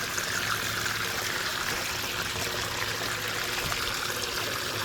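Water pours and trickles steadily while pay dirt is washed out in a prospecting pan, a continuous close, even rush of running water with no talk.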